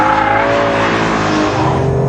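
A BMW M3 accelerating hard on a race track, its engine note climbing in a loud, steady, close-up snarl with rising harmonic tones.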